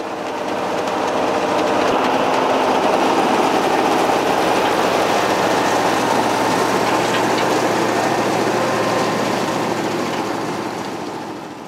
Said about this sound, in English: The discs drop the roots onto two cleaning turbines, which remove most of the soil and pass them onto a further three turbines for more cleaning.